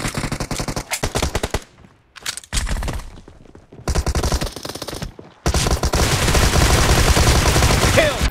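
Loud, dense gunfire in the video game PUBG, with rapid machine-gun bursts broken by brief gaps, then a long sustained volley of automatic fire at the end.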